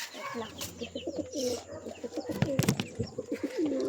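Pigeons cooing close by in a loft with eggs in the nest, soft repeated throaty coos overlapping in a continuous murmur, with a few sharper sounds midway.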